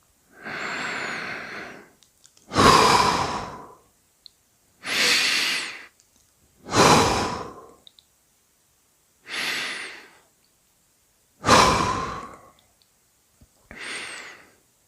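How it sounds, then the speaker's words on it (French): A person seated in a chair during a sophrology relaxation session takes slow, deep, invigorating breaths, each a long audible inhale or exhale; seven breath sounds come alone and close, separated by quiet gaps. "Prendre 3 respirations plus toniques."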